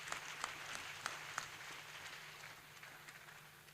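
Audience applause at the opening of a university registry workshop, a steady wash of many hands clapping in a hall, moderately distant and fairly soft, with a few sharper claps standing out early on.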